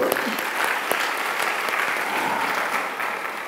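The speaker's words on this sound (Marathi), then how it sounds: "टाळ्या वाजवत त्यासाठी." Sustained audience applause fills the hall at a church gathering, a dense steady patter of many hands clapping at even loudness throughout, with no talk over it.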